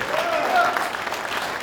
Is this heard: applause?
yes